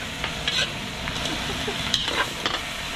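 Garlic butter chicken sizzling steadily in a pan while being stirred, with a constant frying hiss and scattered scraping stir strokes, close and moderately loud, no talking.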